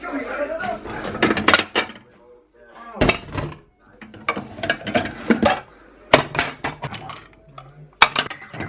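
Plates and cutlery being handled and stacked in a holiday apartment kitchen, with repeated sharp clinks and clatters in bursts and quieter gaps between them.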